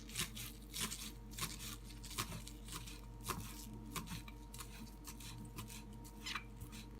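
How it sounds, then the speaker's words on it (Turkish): Soft, quick knife taps chopping green onions on a cutting board come in uneven bursts against a low steady hum, close by but fairly quiet. "soğanımızı da doğrayalım."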